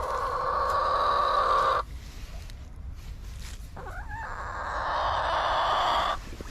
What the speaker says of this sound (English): The chickens are scratching it away.